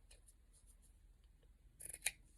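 Scissors snip paper for journal decorating, with a few faint cuts followed by a louder, crisp double snip close by in a quiet room.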